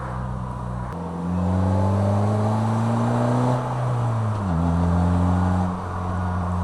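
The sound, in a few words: Polaris Slingshot engine revving while driving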